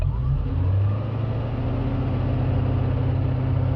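Ex-NZ Army Land Rover Stage One V8 engine runs at a steady, close rumble with a slight swell in revs early on, then holds an even idle-like drone.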